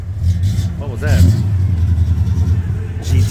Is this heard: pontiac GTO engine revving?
yes